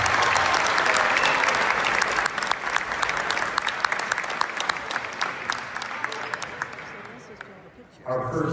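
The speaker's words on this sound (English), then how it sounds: "How about we give them a nice round of applause" A high school gym crowd gives sustained applause for seniors at a volleyball senior night, steady clapping that tapers off before a voice comes over the speaker.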